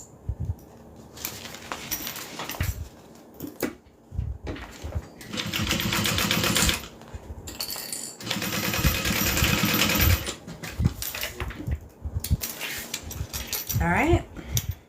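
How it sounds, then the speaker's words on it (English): Machine sewing on a pattern project runs in two steady bursts of rapid stitching, separated by pauses and quieter handling noise. Faint talk surrounds them. "that's the last sewing on this pattern."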